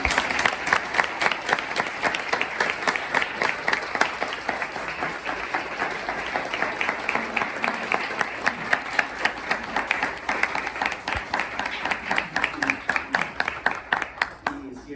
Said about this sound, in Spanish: brindarle un aplauso a Juan